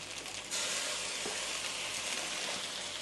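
Light soy sauce hitting a hot wok for Thai pork fried rice, a steady broad sizzle and hiss that grows louder after a brief moment and holds for several seconds.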